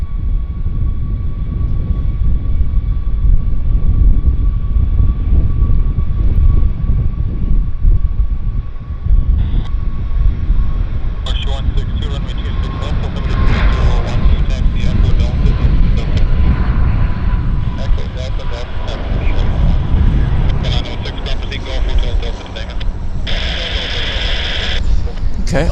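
Airliner at Vancouver airport rolling down the runway on its takeoff run toward Puerto Vallarta, Mexico, a heavy low engine rumble building and roaring steadily at some distance, with someone talking over it.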